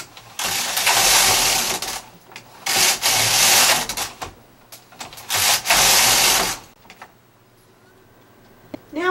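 A flat bed knitting machine carriage sliding across the needle bed while knitting a tube sock, three long loud whooshing rattling passes separated by short pauses, ending with faint clicks.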